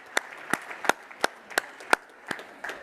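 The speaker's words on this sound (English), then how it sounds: "Okay, another round of applause, please, for Cameron and Jeremy." A few people clap sparsely at a business conference session in a ballroom, about eight distinct, well-spaced claps across a couple of seconds, moderately loud and unaccompanied by voices.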